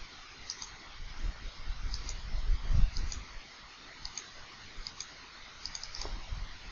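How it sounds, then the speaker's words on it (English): Mouse clicks selecting land lots on a map in mapping software, a string of soft, quiet clicks at an irregular pace over a low room hum, with no talking. "I can click on each individual lot and they're being added into the grid as they're selected"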